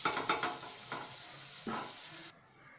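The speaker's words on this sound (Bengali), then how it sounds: "আলুগুলোকে কিন্তু বেশ লাল করে ভালো করে ভেজে নিতে হবে।" Potatoes sizzle in hot oil in a pan for a Bengali-style potato chicken curry, with a steady frying hiss broken by a few stirring clatters before the sound cuts off near the end.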